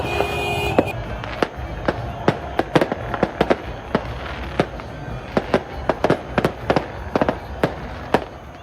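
Fireworks burst over Dubai during a giant New Year's Eve countdown celebration, a rapid irregular series of sharp cracks and bangs over a steady crowd and city rumble, loud and fairly close.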